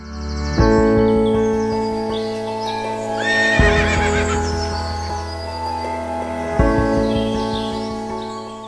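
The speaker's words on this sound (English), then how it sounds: "So here's the team of the gray Percheron mares." Gray and blue roan Percheron draft horse mares neigh loudly and close by, three long whinnies with pauses between them, while faint birdsong carries in the background.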